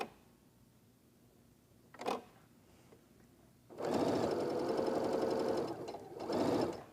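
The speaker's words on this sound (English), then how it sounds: "place your squares even on the long edge of your fabric and stitch" A sewing machine with a quarter-inch foot runs a fast, steady whirring stitch through quilt fabric squares, loud and close for a few seconds, pausing briefly and starting again after a quiet stretch with a single click.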